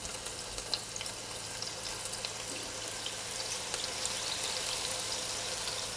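A tablespoon of water spread across a hot covered pan to steam a soufflé pancake, giving a steady hissing sizzle with faint crackles that holds evenly and swells slightly toward the end.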